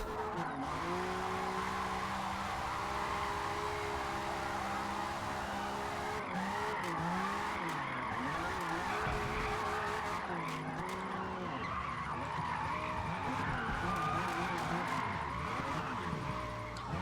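Drift car tires squeal and skid through a short corner in a racing video game, with a steady engine drone underneath and repeated wavering screeches across the whole stretch, loud and continuous.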